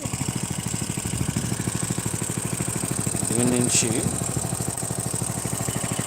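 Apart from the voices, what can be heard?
small motor pumping water to paddy field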